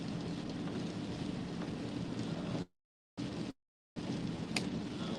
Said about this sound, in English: The rain is slowing down, but it's kind of like, it's not a heavy rain. It's more like a misty rain.